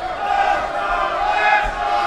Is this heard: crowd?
yes